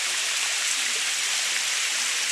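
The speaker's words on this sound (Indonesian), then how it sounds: "Ini di belakang saya air terjunnya." A waterfall roars as a steady, dense rush of falling water, close and loud, with no break and no voices.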